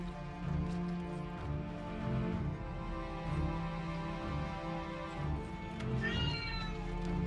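A cat meows a few times over a steady layer of music, the calls soft and somewhat distant with a higher, wavering cry near the end.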